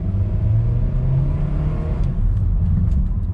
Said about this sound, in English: So this is the best way to launch an automatic car